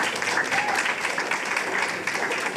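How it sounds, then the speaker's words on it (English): An audience at a national French spelling bee applauds a secondary school, steady dense clapping that fills the whole stretch without pause. "I would like us to give Georgetown Secondary School a round of applause."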